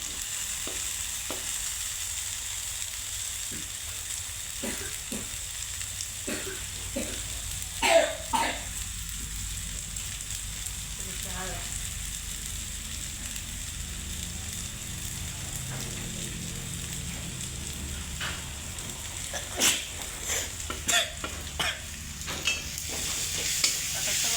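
Cumin and turmeric fry in a little oil, giving a steady close sizzle with scattered scraping stir strokes, a few coughs and throat clearings, and no talking.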